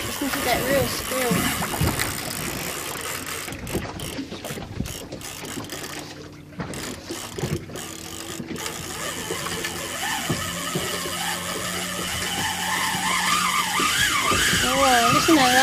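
A fishing reel's drag squeals as a fish runs off line while fishing from a boat at an Indian Ocean bank off Perth, Western Australia, with rising and falling whines under wind, engine noise and excited talk.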